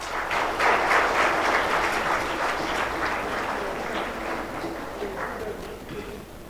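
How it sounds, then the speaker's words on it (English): Audience applauding at an Innovation, Design and Entrepreneurship bootcamp event, a dense steady wash of many hands clapping for several seconds, slowly fading toward the end. "Round of applause to yourself."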